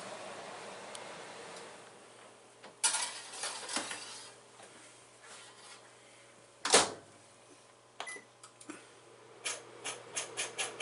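A peach cobbler dish is set back into a convection oven, with a sharp clank of the dish and oven rack near the middle, then a run of lighter metallic taps and rattles toward the end, all close and without talk.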